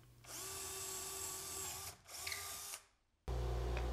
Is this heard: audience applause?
no